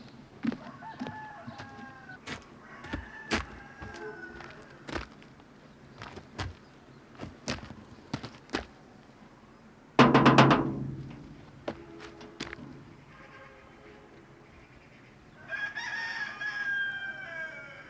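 Rooster crowing loudly nearby with chickens clucking around it in a Gilan village lane, bursts of clucks and a long crow standing alone without talk.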